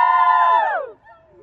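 A crowd cheers and whoops for Niall Horan, a loud burst of voices that holds for most of a second and then cuts off to near quiet.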